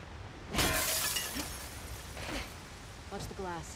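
Glass window shattering in The Last of Us Part II, a sudden loud crash with tinkling debris trailing off, followed by a few smaller glass clinks, with a voice speaking over it.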